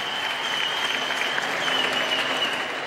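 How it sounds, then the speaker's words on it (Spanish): Crowd applause at a WBC world title women's boxing bout after the fight, a steady dense wash of many hands clapping that holds at even loudness throughout, with no voices standing out. "quisiera pedir un fuerte aplauso para estas gladiadoras"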